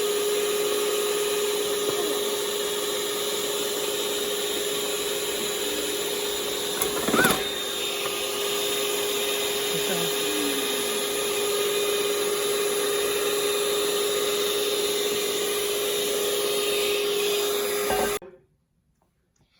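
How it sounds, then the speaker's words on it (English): Stand mixer kneading bread dough made with five cups of flour, a steady droning motor hum with a constant pitched whine, one brief clatter midway, running alone until it cuts off abruptly near the end. "Now that we've finished mixing it in the mixer"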